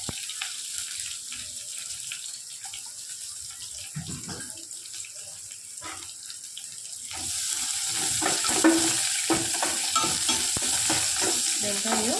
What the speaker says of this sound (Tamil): கால் டீஸ்பூன் உளுத்தம் பருப்பு ரெண்டு காய்ந்த மிளகாய் கருவேப்பிலை கொஞ்சம் போட்டுக்கலாங்க